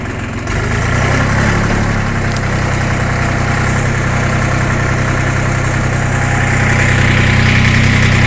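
A YTO 244cx tractor engine labours steadily in low first gear with front-wheel drive engaged, hauling three-metre logs through a muddy ditch; a deep, continuous drone holds loud and close after a brief quieter start, with no talking.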